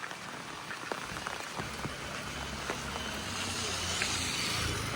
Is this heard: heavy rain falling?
yes